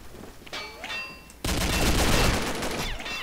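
Gunfire in the video game Combat Arms: a faint ring of chimes, then a sudden loud sustained burst of rapid shots filling the rest of the moment.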